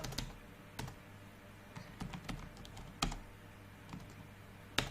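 Typing on a computer keyboard, with soft scattered key clicks and a few sharper taps in an irregular rhythm, faint and close in an otherwise quiet room.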